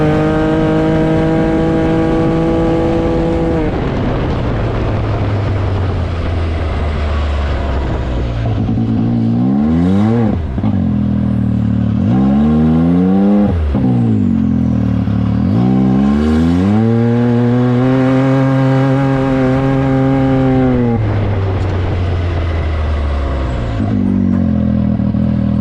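Can-Am X3 side-by-side driving without a windshield, its engine loud and steady with rising and falling revs and rattling clatter throughout, recorded close up with no talking.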